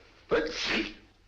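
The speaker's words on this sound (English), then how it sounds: "Gesundheit." A single sudden sneeze bursts out close by, a sharp intake followed by a loud, breathy expulsion that fades quickly.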